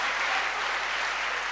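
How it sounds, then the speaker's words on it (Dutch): A church congregation applauds a preacher during a sermon, a dense, even wash of many hands clapping together that holds steady throughout. "I think he deserves a big applause"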